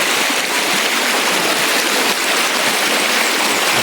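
Mountain stream rushing over rocks, a steady loud broadband wash of flowing water filling the whole clip with no pauses.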